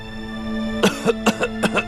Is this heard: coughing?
yes